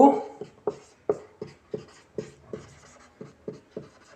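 Chalk or marker taps and strokes on a board as math for a Class 10 real-numbers lesson is written out, in a steady series of about a dozen short, close knocks with faint speech at the start.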